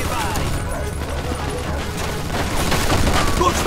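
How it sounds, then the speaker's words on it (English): Sustained machine gun fire in the Mafia 2 game, a dense continuous rattle of shots mixed with booms and battle noise, loud throughout with voices shouting over it. "Looks like we found the machine gun!"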